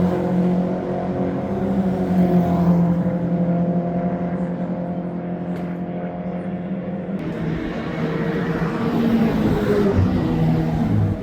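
BMW 116i Trophy race cars roar around the Brands Hatch circuit, a steady loud engine drone with layered tones from several cars, shifting character partway through as the pack passes.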